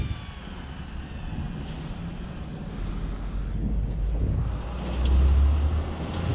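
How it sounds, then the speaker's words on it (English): Truck pulling out of a driveway at night, a low engine rumble rising gradually over a bed of wind and distant traffic noise, growing loudest toward the end. "Got another truck coming out the driveway."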